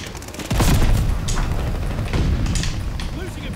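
Video game shotgun blasts, a heavy boom near half a second followed by further thumping shots, loud and close, with game noise and a voice speaking over them.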